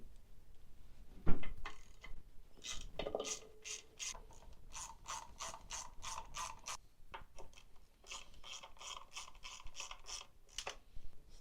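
A ratchet wrench clicks in rapid bursts while snugging metal intake manifold bolts on an engine, with a few sharp knocks of the tool on metal, close and fairly quiet, no talking.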